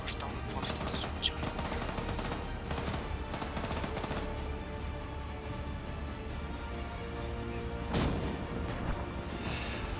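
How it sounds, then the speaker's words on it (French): Machine gun fire in the military video game ARMA 3, heard as dense, sustained rattling bursts with sharper impacts, fairly quiet and continuous over a steady background. "Tire un peu à la MG."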